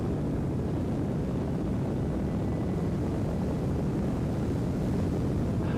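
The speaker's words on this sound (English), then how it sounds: "Can you guys hear me okay over the engines?" Rocket engines firing in Kerbal Space Program 2, a steady, dense, roaring rumble that holds at an even loudness throughout with no voices over it.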